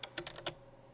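Typing on a computer keyboard, a quick burst of about five close, crisp key clicks in an otherwise quiet room.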